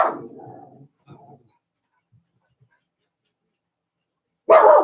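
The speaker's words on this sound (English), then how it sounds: "Ray, no barking now." A dog gives a short bark and a soft follow-up sound, then silence, then another loud bark bursts in at the end.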